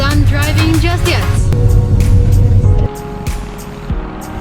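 Car on a road trip through northern Norway, steady loud cabin drone and road rumble that drops in level partway through, with people talking over it.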